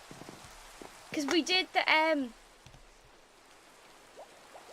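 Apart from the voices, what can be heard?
rain falling in the video game Minecraft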